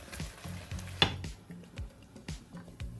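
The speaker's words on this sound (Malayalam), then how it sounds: "ഇതൊന്ന് ഇളക്കി കൊടുക്കാം." Palak spinach chicken curry being stirred in a pan, with soft clunks and scrapes of a spoon against the pan over a low simmering sizzle, close and quiet, with no voices.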